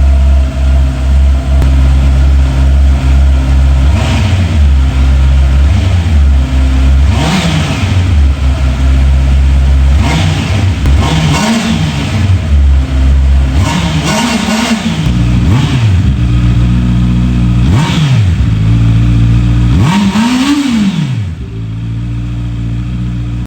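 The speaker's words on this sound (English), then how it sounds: "And just listen to that exhaust note. This is what makes the inline 4 motorcycle so special." A 2025 Honda CBR650R inline-four sport motorcycle with stock exhaust, revved repeatedly from idle, each throttle blip rising and falling in pitch, loud and close, about ten revs over a steady idle that fades at the end.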